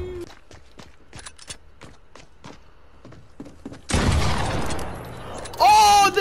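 A pump shotgun in Fortnite fires with a loud, close, sharp blast after a run of light footstep-like taps, with a second burst following shortly after.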